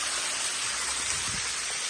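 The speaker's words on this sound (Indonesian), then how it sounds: "Air terjun yang bersih." A clean waterfall in a natural outdoor setting, its water pouring in a steady, dense broadband rush that stays loud and unbroken throughout, with no voices over it.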